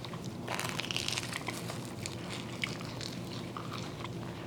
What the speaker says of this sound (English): Oh my God, I heard the crunch from yours.